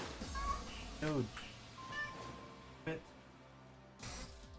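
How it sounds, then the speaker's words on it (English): A house cat meows several times in a room, short rising calls close to the microphone, mixed in with a person talking and game sounds in the background. "My cat is like having a heyday."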